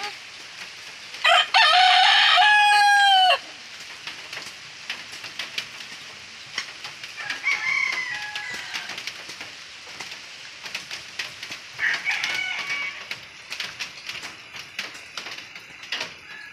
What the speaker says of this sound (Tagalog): Ayun o, manok.